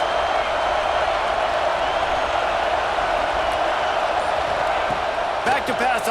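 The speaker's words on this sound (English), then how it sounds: "Listen to this crowd just shaking the girders of this place" Crowd roaring in a video game football stadium, a dense, loud and constant wash of cheering that fills the whole stretch, with a few thumps near the end.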